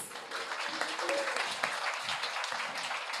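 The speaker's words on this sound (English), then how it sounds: "please let's give him a round of applause" Applause from an audience at a tech bootcamp demo day in Tokyo, a steady, moderately distant wash of clapping hands lasting a few seconds, fairly soft and even throughout.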